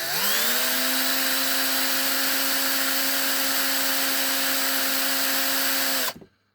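A small power drill bores out a post on a Matchbox No11 scaffolding truck model, giving a loud steady whine close by that runs for about six seconds before winding down abruptly.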